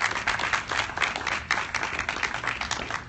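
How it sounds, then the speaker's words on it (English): Applause for the sponsors at a public proclamation event for National Drive Electric Week, with a modest crowd clapping in uneven, distinct bursts, moderately close and alone without speech. "We want to ask a special thank you and applause for all of the sponsors who made this event possible."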